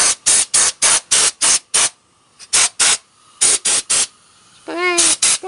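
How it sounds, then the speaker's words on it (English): Cleaner sprayed onto car brakes in quick repeated bursts, sharp loud hissing blasts in an uneven rhythm with brief pauses, followed by a short squeaky sound near the end. "Spray the brakes. No more squeaking."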